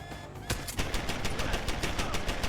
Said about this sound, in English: Now the gun works for me!